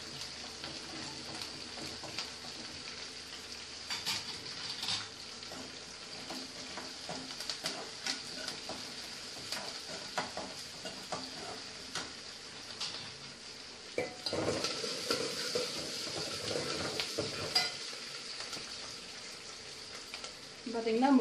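Sliced onions sautéing in hot oil for drumstick sambar in a South Indian kitchen, a continuous close sizzle and crackle with occasional utensil scrapes and stirring clinks throughout.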